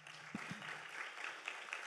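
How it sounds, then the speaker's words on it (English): An audience at a university sustainability summit awards ceremony applauds in a steady, even patter of many hands, heard from a distance at low volume. "Let's give another round of applause"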